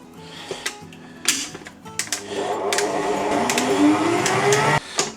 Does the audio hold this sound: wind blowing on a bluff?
no